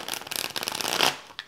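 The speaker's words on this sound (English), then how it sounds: "I'm just going to shuffle them a couple more times for you" A deck of Osho Zen cards being shuffled, a quick run of crisp riffling flutters close up, ending with a short final tap of the deck.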